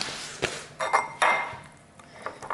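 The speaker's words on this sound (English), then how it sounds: "Whisk that in." A whisk stirring sea salt into softened chocolate cake filling, giving sparse, irregular metallic clinks and taps against the bowl, fairly close and unaccompanied by talk.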